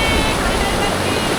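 The Ganges River rushes past the stony banks near Gangotri in the Himalayas, a steady, dense roar of flowing water that fills the whole moment at close range without letting up.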